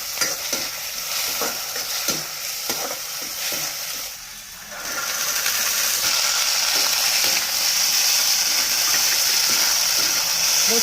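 Tomatoes with chillies and garlic hitting hot oil in a pan, scraping stir strokes at first, then a brief dip before a loud, bright, continuous sizzle swells and holds steady.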